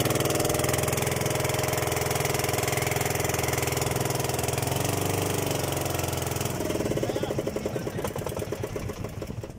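Fishing boat engine labouring to haul a heavy catch of anchovies at the shore, a loud continuous drone that shifts to a rougher, pulsing chug toward the end.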